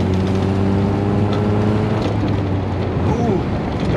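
An old 1980s Mazda truck drives along, its engine droning loudly and steadily with a change in pitch near the end as gears shift; a voice speaks over it.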